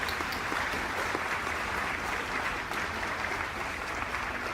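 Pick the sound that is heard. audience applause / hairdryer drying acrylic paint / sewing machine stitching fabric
audience applause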